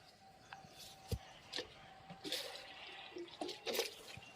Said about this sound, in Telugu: ఇదంతా నీళ్ళు చల్లుతాను.